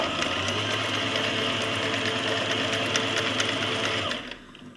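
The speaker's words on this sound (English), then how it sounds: "I've got a small problem with the computer on my sewing machine, not quite stopping." A computerized sewing machine runs a steady straight stitch through a cloth pad, a fast continuous whirring chatter holding level for about four seconds before cutting off abruptly into near silence.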